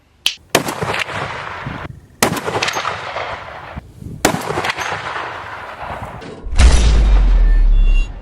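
A Barrett sniper rifle fires four heavy, widely spaced shots, each a sharp loud crack with a lingering tail, followed by a sustained low rumbling roar at the end.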